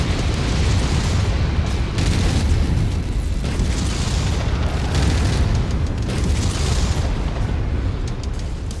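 A MechWarrior 5 battle mech unloads its weapons on an enemy mech, giving a dense, loud, nearly continuous barrage of booms and explosive bursts lasting several seconds, with no voices over it.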